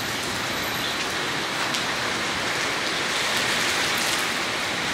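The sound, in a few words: heavy rain downpour on a parking lot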